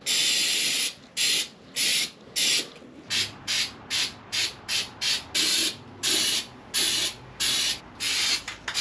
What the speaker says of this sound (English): spray it down real quick